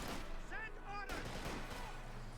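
Gunfire in the real-time strategy game Company of Heroes 2 rattles in dense overlapping bursts over loud battlefield noise, with a sharp crack near the one-second mark and a whistling sound just before it.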